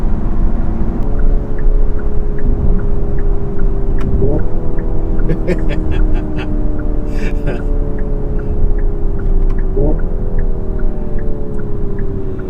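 A steady synthetic engine hum from a Hyundai Ioniq 5 N electric car, its tone stepping up and down, heard from inside the cabin with constant road noise underneath.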